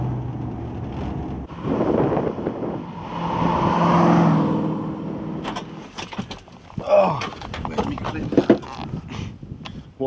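A lightweight Mk1 Ford Escort with a V8 engine revs in a few rising bursts, close by, with rumbling between them and a voice speaking briefly.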